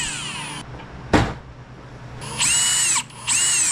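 A power drill runs in two sustained bursts, driving screws back into the front bumper of a Ford EF wagon, with a sharp knock in between and a whirring motor that rises and falls in pitch.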